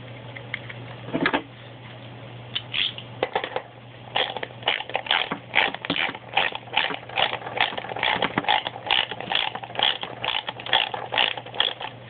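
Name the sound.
bolting tire back onto T-Maxx RC truck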